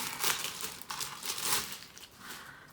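Gift wrapping paper crinkles and rustles steadily as a birthday present is torn open, with bursts of crumpling that rise and fall over a few seconds, close and fairly loud, with no talking.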